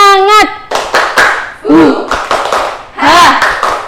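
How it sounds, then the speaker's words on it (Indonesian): A primary school class does the rhythmic 'tepuk semangat' clap, a series of sharp hand claps in a short pattern mixed with a teacher's and children's voices calling out. "Coba kita tepuk semangat dulu ya."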